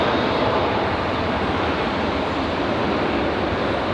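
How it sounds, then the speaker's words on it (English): A United Express airliner arriving at Raleigh Durham airport, heard as a loud, constant broadband engine roar with no distinct pulses, holding steady throughout. "Good looking arrival there for the United Express."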